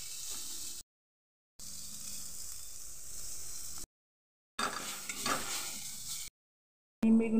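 Eggplant frying in a home kitchen pan gives a steady, close sizzling hiss that comes and goes in short bursts separated by brief silences.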